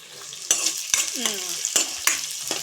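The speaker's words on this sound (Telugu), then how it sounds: "ఆనియన్స్ కూడా కాస్త వేగనివ్వాలి" Thinly sliced onions fry with green chilies in hot oil in a pan for a capsicum masala curry, giving a steady close sizzle broken by sharp scrapes and clacks of stirring, with no talking.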